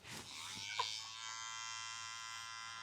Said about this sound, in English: If you shave off my eyebrow, I swear to God.